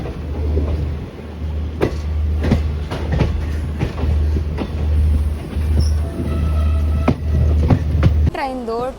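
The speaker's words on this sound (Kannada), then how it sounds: "ಟೋಟಲ್ ಆಗಿ 21 ಕೋಚ್ಗಳಿದ್ದಾವೆ ನಮ್ಮ ಟ್ರೈನ್ಗೆ" Bengaluru–Mysuru Rajya Rani Express with ICF coaches rolls along the rails, a steady low rumble broken by repeated sharp clickety-clack wheel beats at rail joints, heard from on board with voices in the background.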